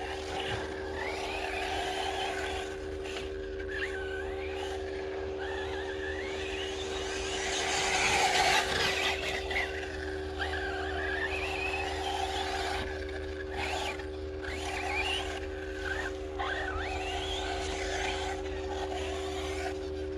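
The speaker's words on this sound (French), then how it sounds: "Vous avez vu comment ça accroche même dans les virages. Voilà, j'accélère quand même relativement tôt." A Team Corally Python RC car on a 4S battery running laps of a TT track, its electric motor whining and rising in pitch as it accelerates out of corners, heard at middle distance over a constant steady hum, without talk.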